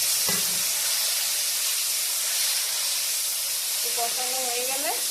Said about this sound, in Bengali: এখন এই মশলার পেস্টটা ঢেলে দেব।